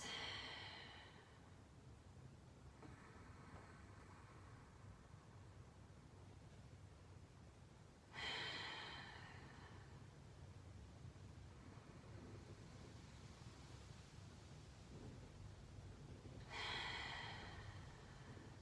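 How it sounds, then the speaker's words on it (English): Slow, deep yoga breaths during a neck and shoulder stretch, three soft broadband inhale-exhale swells spaced about eight seconds apart, quiet and close with a steady low hum underneath. "3 deep breaths."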